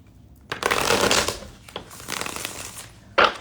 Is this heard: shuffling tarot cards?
yes